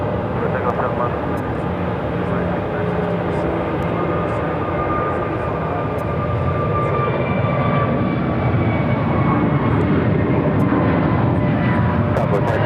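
An American jet airliner takes off from a large airport runway, a steady, broad engine roar sustained throughout while a radio voice talks over it.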